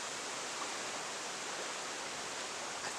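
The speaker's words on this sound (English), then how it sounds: "come and hang out with me by the water's edge. It's a little windy, but it's a beautiful day for a walk." Steady broadband wind rush and water wash at a breezy outdoor water's edge, a constant loud hiss with no breaks or voices.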